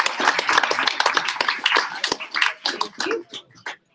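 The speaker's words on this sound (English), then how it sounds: "Big round of applause for them." Applause from the audience at a startup pitch competition grand final in Brisbane: dense, fairly close clapping that tapers off unevenly toward the end.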